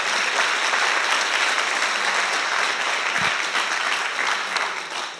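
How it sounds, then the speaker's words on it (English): Audience applause at a university Three Minute Thesis grand final: dense, sustained clapping from a large crowd filling the hall at a steady loud level, tapering slightly at the end. "a big round of applause for them as well"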